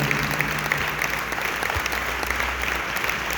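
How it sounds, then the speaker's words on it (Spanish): A church congregation applauds for Christ Jesus during a Spanish-language sermon, a dense, steady roar of clapping that stays loud and even throughout. "Denle un fuerte aplauso a Cristo Jesús"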